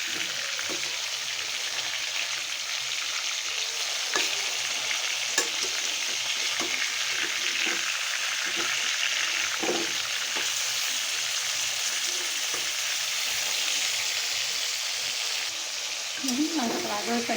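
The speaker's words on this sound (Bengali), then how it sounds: "মাংসটা একটু ভাজা হয়ে গেছে" Chicken pieces fry in hot oil in a pan, a continuous bright sizzle with occasional scraping stirs and spatters, close and steady throughout.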